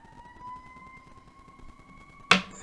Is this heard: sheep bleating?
no